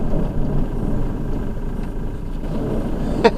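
A car drives through town traffic, its engine and road noise forming a steady low rumble from inside the vehicle, with a short sharp click near the end.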